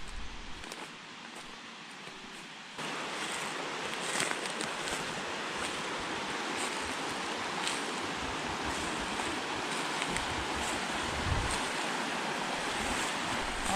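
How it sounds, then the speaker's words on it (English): Steady broadband rush of water, like surf or a stream at a distance, with wind buffeting the microphone throughout and no voices. "I hear some rushing water in the distance."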